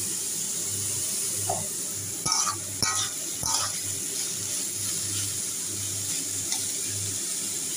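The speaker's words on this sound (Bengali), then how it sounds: "আবার হাত ধুতে হবে" Water runs steadily from a tap with soft splashing, broken by a few sharp clinks and knocks from hands or dishes at the sink.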